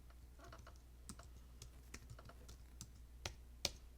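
Quiet, close keystrokes on a computer keyboard as a command is typed into a terminal, an uneven run of light clicks with a couple of sharper taps near the end.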